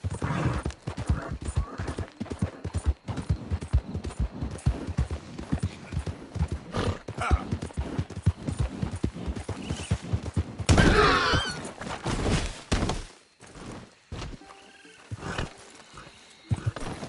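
Horse hooves clip-clop at a galloping pace in Red Dead Redemption 2, a fast steady rhythm close up, with a whinny partway through and a few scattered game sounds.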